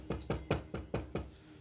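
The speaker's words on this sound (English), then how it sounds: "Hopefully today, knock on wood." Knuckles knock on wood six times in a steady, even rhythm, each rap close and crisp, with nothing else heard.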